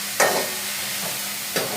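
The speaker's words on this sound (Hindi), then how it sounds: "अब ये प्याज ब्राउन हो जाए" Onions sizzle in a hot pan under a steady frying hiss, with two sharp scraping stirs a little over a second apart.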